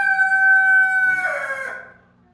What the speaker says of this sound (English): Everyone's crowing.